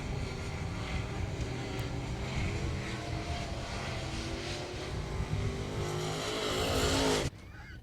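A race car engine roars past at a South Texas speedway as it comes off turn four to take the checkered flag, a steady loud drone that swells near the end and then drops away.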